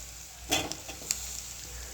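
Prawns and capsicum fry in a pan with a soft, steady sizzle. Two brief clatters of stirring sound up close over the constant hiss.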